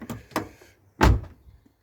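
A car door is pushed shut with a solid thud, following two lighter clicks of the latch and handle, all close by in a quiet space.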